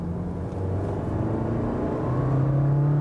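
Seat Arona 1.5 pulling hard in second gear from about 40 to 70 km/h, a steady engine drone and rising rumble heard from inside the cabin, loud and continuous with the pitch climbing toward the end.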